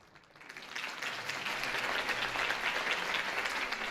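Applause from a crowd after a campaign speech in Batman: The Telltale Series, building quickly from a few claps into steady, dense clapping that holds at a moderate, even level without voices over it.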